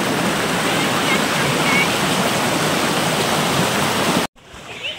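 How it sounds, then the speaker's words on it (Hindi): Two Himalayan mountain rivers, one of them the Eastern Nayar, rushing together at a confluence, a loud steady roar of flowing water that cuts off abruptly near the end. "एक नदी ऊपर से बहते हुए आ रही है, और जिस साइड से हम आए थे उस साइड से भी पूर्वी नयार बहते हुए आ रही है"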